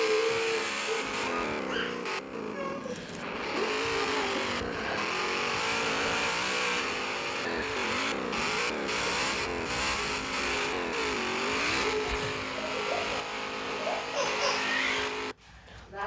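Video game car engines rev continuously, their pitch sweeping up and down through gear changes, loud and steady with a dense, busy background.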